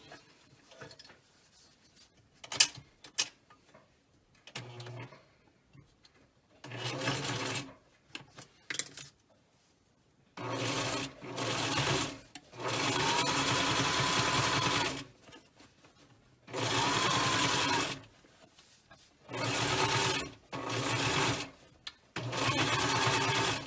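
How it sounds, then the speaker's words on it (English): Sewing machine stitching two pieces of fabric together along a narrow seam, running in several long steady bursts with pauses between them and a few soft clicks at the start, close and with no talking. "I'm going to sew 1/8 inch along just to join these two pieces of fabric together"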